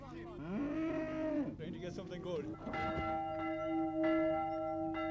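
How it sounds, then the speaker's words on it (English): Church bells ring for mass over an Irish country fair day in the 1970s, steady sustained peals building after cattle low loudly nearby at the start. "Bells are booming down the boreens"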